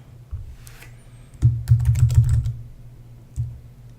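Computer keyboard typing during circuit board design work, heard as one short tap, then a close, dense burst of keystrokes lasting about a second, then one more tap after a pause, with no voices.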